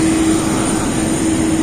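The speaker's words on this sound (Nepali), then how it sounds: "टर्किस एयरलाइन चाहिँ उडिरहेछ है।" A Turkish Airlines airliner flies near an airport, a loud, steady engine roar with a sustained droning hum and no talk over it.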